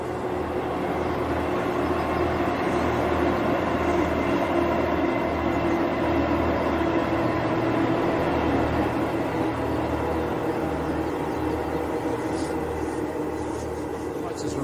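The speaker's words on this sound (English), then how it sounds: "This is a little diesel carriage going across" A small diesel train rumbles steadily across a viaduct, a continuous loud rolling roar with a faint rhythmic clatter throughout.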